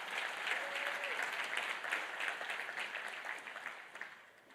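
An audience applauds at the Zabbix Summit conference, a dense, steady wash of clapping from a large hall that holds for several seconds and slowly thins.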